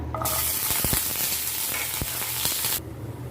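Whole garlic cloves sizzle in hot mustard oil for potato mash, a loud, close, steady hiss with a few small clinks that cuts off sharply near the end.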